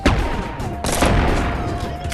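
Gunfire in the VR game Animal Company, two loud close bursts of rapid shots over a busy background.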